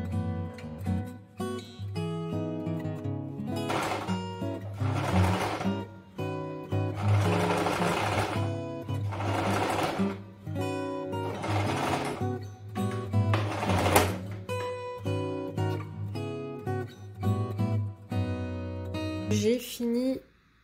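A sewing machine stitches the lining and sequined fabric of a wrap skirt together, running in several bursts of rapid mechanical whirring and clatter separated by brief pauses, loud and close.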